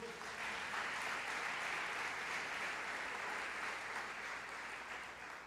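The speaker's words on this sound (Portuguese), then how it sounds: "Você pode dar um aplauso ao Senhor?" Congregation at a Sunday evening church service applauding the Lord, a dense, even roar of many hands clapping that holds steady, then eases slightly near the end.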